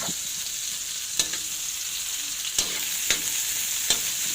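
Garlic, onion and ginger sautéing together in oil, a soft even sizzle punctuated by several sharp scrapes and taps as a utensil stirs the pan at irregular intervals.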